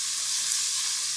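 Salt and pepper sizzling in a hot pot of pasta e fagioli, a steady, even hiss of frying with no breaks and no voices.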